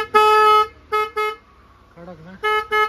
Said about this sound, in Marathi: आपला पहिला हॉर्न जो आहे जुना तो काढला, आता नवीन बसवला, बघूया कसं वाजतोय तो